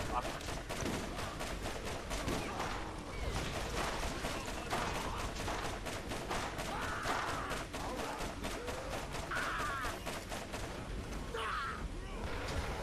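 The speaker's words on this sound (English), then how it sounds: "I'm just shooting from where I was." Dense, continuous gunfire from the Borderlands video game, with rapid shots and booms layered over a busy battle soundscape throughout.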